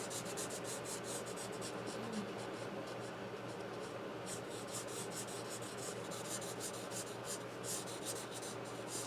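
Blending marker rubbed steadily over a card while coloring a car bumper, a continuous soft scratchy swishing close by, with faint strokes repeating throughout.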